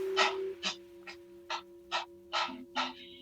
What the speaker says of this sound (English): you're going to start by panting like a dog.